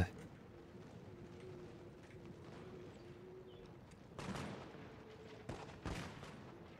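Musket volleys crackle in Total War: Shogun 2, a few distinct bursts of massed gunfire late on over a steady battlefield rumble, moderately loud, in a Hojo clan battle.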